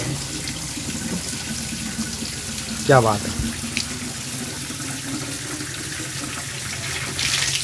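Tap water runs into bottles at a roadside spring water point, a steady splashing flow with a brief louder gush near the middle, heard under outdoor background noise while a voice speaks briefly.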